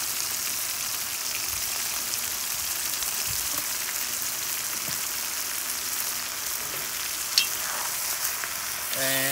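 Onion frying in oil for pelaf gives a steady, dense sizzle that stays even throughout, with a faint clink near the end.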